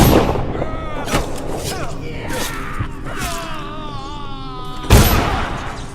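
In the Dishonored video game, guards fire their guns, sending a few sharp, loud blasts over a tense sounding game scene while voices talk throughout.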